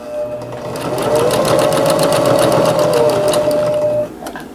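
A domestic sewing machine stitches a reversible apron in one steady run of fast, even needle strokes, starting up, holding close and loud for about three seconds, then stopping abruptly with a faint click.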